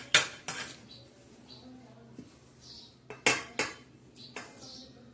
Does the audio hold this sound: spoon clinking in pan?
yes